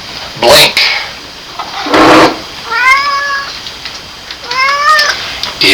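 A cat meows twice in the second half, with drawn-out, rising and falling calls close by, after a couple of short broadband knocks and rustles.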